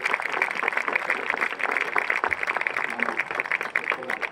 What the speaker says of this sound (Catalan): m'agradaria un fort aplaudiment per aquest senyor